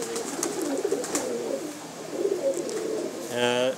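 Fancy-breed pigeons coo nearby with a soft, low, throaty rolling sound that continues steadily, and someone talks over it while showing a male bird.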